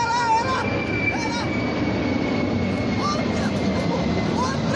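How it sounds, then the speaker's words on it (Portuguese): A passing airplane roars as a broad, steady rumble over the Feira do Rolo outdoor flea market, loud and continuous, with faint voices and crowd noise underneath. "Outro avião na Feira do Rolo"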